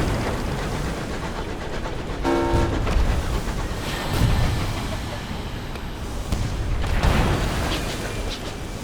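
Ship weapon firing in the video game Sunless Skies, heard as several heavy booming blasts spaced a second or two apart over a dense rumbling engine bed, with a brief tonal buzz near the start.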